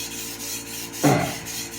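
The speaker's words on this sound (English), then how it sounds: "then the stone would make pretty short work of creating the new bevel" Blue 1 steel gyuto knife, a 240mm Yoshikazu Tanaka, drawn across a 1000 grit whetstone: soft rhythmic rasping strokes with one louder, grittier scrape near the middle, close and without voices.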